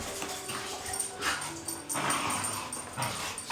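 A dog in the video game Final Fantasy XIV gives several short whimpering yips and whines, fairly close, set against a soft game ambience.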